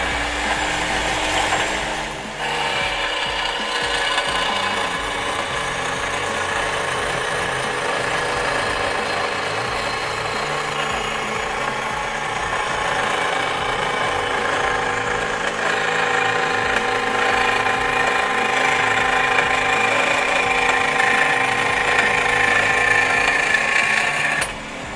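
A Femi saw fitted with a tabletop attachment runs steadily for the whole stretch, a continuous loud motor whine that stays close and unbroken, with no talking.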